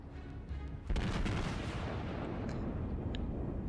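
Heavy battleship guns fire a salvo in World of Warships, a deep booming blast that hits suddenly and then rolls into a long rumbling tail, loud and close.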